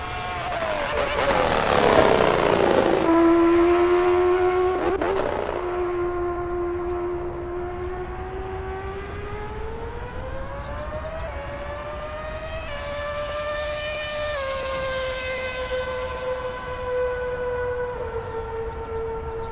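Formula 1 car from the 2010 British Grand Prix season with a blown diffuser exhaust, a loud high-pitched engine wail rising and sweeping as the car passes and accelerates, close and sustained for the whole stretch, no talking.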